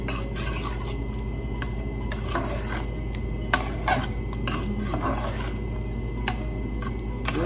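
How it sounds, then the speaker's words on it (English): Chopped green onions and cilantro stirred into a pot of chana masala, with repeated spoon scrapes and clinks against the pot over a low, steady background hum, no talk. "Stir that in."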